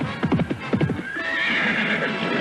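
A white horse neighs in a loud, quavering whinny with hooves clip-clopping nearby, followed by a steady hiss of background ambience.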